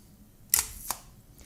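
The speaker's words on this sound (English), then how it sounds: "the shutter opened and closed again." Camera shutter opening and closing at a quarter-second exposure: two crisp mechanical clicks about a third of a second apart, close and clear in a quiet room.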